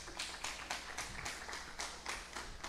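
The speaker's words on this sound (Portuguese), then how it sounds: "Aplaude a Deus por isso, aplaude." Faint, rhythmic clapping from a church congregation during a sermon, with sharp beats falling in steady time about four per second, distant and low under a quiet room tone.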